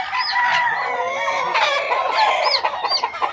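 Many hens clucking and calling together nearby at a gamefowl farm, a busy continuous chorus of overlapping squawks and clucks.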